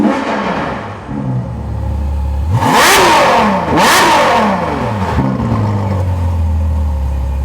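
A Ferrari 812 Superfast's 6.5-liter V12 revs twice in quick succession, each blip rising sharply and falling back to a loud, close idle rumble, with no talking.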